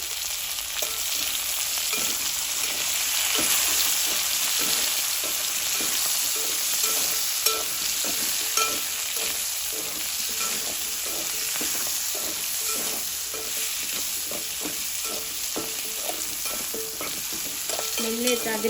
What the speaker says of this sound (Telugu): మెంతి కూర వేసేసుకొని అయితే కలుపుకోవాలి ఒకసారి